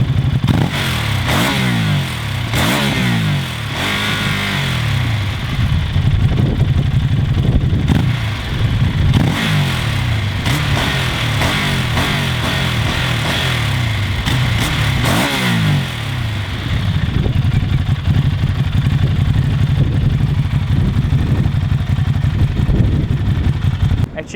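A 2014 Ducati Hyperstrada motorcycle is ridden in sport mode, its engine revving up and down through repeated gear changes in loud, close bursts of rising pitch with wind noise between them.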